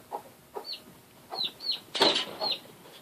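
A brooding hen with a newly hatched chick gives a handful of soft, close clucks and short chirping calls, spaced irregularly in a quiet setting, with one louder rustling burst midway.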